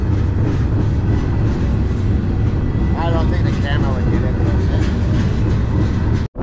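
A freight train rolls by on the Great Plains with a steady, loud rumble and rattling of cars, while a person briefly speaks over the noise.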